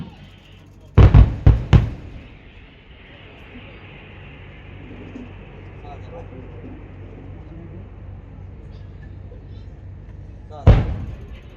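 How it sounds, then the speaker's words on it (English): Army artillery guns fire at a target area: three sharp booming blasts in quick succession, then a long quiet rumbling stretch and one more heavy blast near the end, loud and open-air. "The guns deployed ahead will now bring down fire on the enemy tank between Area 4 and Area Hump"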